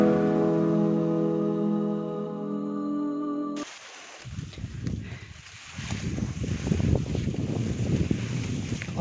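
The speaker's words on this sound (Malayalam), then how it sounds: "ആഹാ, ഒരു നല്ല കാറ്റ്" A breeze blows on a Muthukora Mala mountain trek, rushing and buffeting close against the microphone in rough gusts after a steady humming tone cuts off.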